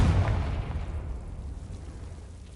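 A Confringo spell blast from a Harry Potter video game, a single booming burst with heavy low rumble that hits at once and then fades slowly, alone with no voices.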